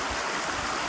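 A backcountry creek in Yellowstone runs steadily nearby, a dense, even rush of flowing water with no pauses and no voices.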